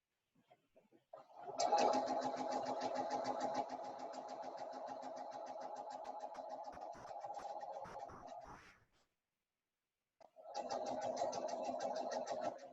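A sewing machine stitches fabric in long continuous runs, a steady close mechanical whir with rapid needle ticking that stops briefly and then resumes.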